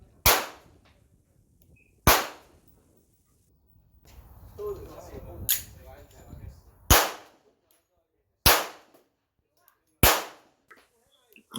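A 9x18 blowback pistol fires six sharp, loud shots spaced a second or two apart outdoors, with someone talking briefly between shots.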